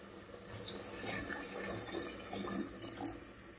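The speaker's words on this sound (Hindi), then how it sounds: "अब हम इसमें डाल देंगे पानी ताकि गोश्त अच्छे से गल जाए" Lukewarm water, about half a litre, poured into a pot of browned mutton for aloo gosht curry, giving a steady close rushing splash with slight surges and no talking.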